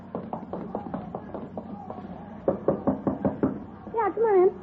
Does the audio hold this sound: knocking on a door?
yes